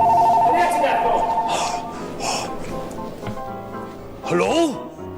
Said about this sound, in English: And answer that phone.